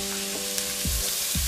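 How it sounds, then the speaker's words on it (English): Whole shrimp fry in olive oil in a pan with a steady, bright sizzle, broken by a couple of low bumps as they are moved about. "spread the shrimp around the surface of the pan"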